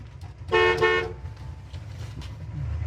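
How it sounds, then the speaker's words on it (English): Horn of a 1967 Chevelle L79 gives a single loud toot lasting about half a second, rising over a low idling rumble that continues after it. "Like I said, horn works."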